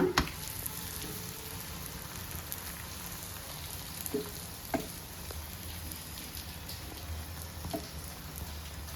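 Coconut holige (obbattu) sizzles steadily in a little oil on a pan over a low flame, a constant soft crackle with occasional brighter pops and faint clicks.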